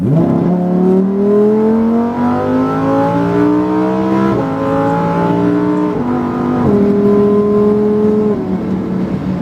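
A Lamborghini STO accelerating on a race track, its engine revving loud and close through rising pitch sweeps with brief dips at each gear shift, sustained without pause.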